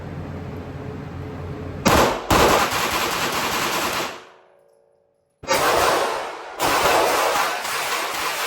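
Rapid bursts of automatic fire from a modified Glock 19X pistol fitted with a G-Flex trigger, loud and close, with a few seconds of silence between the two long volleys.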